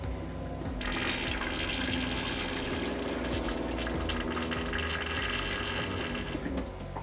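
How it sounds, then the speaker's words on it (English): Water flows steadily into a Thor Magnitude RV toilet bowl to prime it, a continuous close rushing and gurgling fill sound with no speech. "they always have to prime with a little bit of water"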